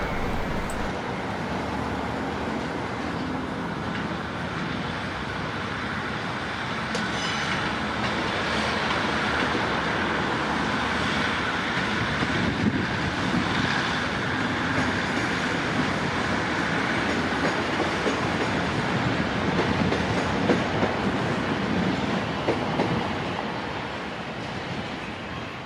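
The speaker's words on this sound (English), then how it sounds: "The 1408 departs for Barrow-in-Furness via the Cumbrian coast." A train pulls out of Carlisle station bound for Barrow-in-Furness via the Cumbrian coast, with a steady rumble and rolling wheel noise that carries on for the whole stretch, close and fairly loud, with no talk over it.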